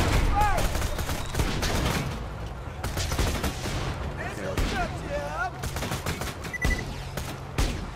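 Rapid bursts of gunfire from shooting in the video game Borderlands 2 crackle in quick succession, fairly close and loud, with someone talking over and between the shots.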